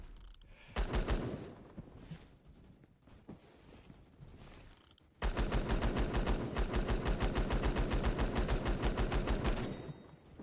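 Rapid automatic gunfire from the video game Phantom Forces, a short burst first, then a long sustained stream of fast shots, loud and continuous to the end.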